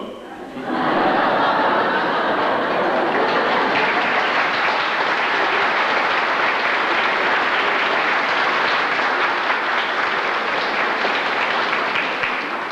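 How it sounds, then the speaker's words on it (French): Loud, sustained applause from a conference audience in La Tuque, a dense continuous roar of clapping with some laughter mixed in, filling the whole stretch without a break. "Applaudissez longtemps parce qu'il y en a qui n'ont pas encore compris"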